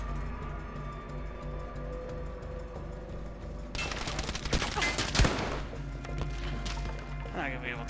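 Gunfire from a bunker in the video game Battlefield V, a dense, sustained fusillade of loud rapid shots that erupts about halfway through after quieter game ambience, with a sharp impact near its peak and voices talking underneath.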